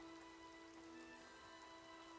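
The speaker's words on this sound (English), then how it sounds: "Oh shit, it is raining." Rain falls in Oblivion Remastered as a steady, faint, even hiss of drops pattering on the ground, continuous and unchanging with no voices.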